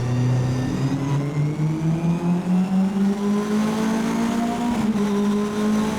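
Mitjet race cars launch at the start of a wet race at Magny-Cours, engines whining upward in rising pitch as they accelerate away, a loud, continuous roar with no talking.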